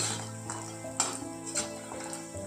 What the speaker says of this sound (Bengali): বড়িগুলো এবার ভালো করে আমি লাল করে ভেজে নেব।